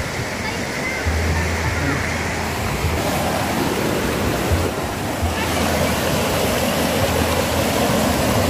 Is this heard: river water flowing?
yes